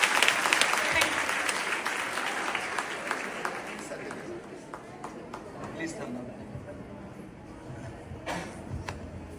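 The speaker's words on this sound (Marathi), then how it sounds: "जोरदार टाळ्या होऊन जाऊ द्या." Loud applause from an audience at a youth workshop, dense clapping at first and then gradually thinning and fading, with faint chatter underneath.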